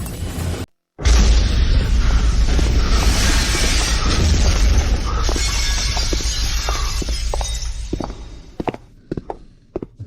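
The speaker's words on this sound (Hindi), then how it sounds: "धमाके की आवाज।" A loud, deep explosion from a Hindi drama, a booming broadband blast that rumbles on for several seconds after a brief silent gap, then breaks into scattered thuds and clatter as it fades.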